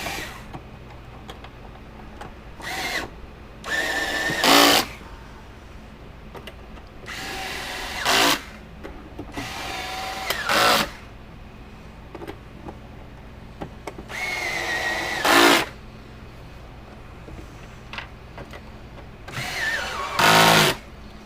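A power drill drives screws back into a Zareba A50LIL 50-mile fence charger during repair, whirring in about seven short, close bursts separated by quiet pauses.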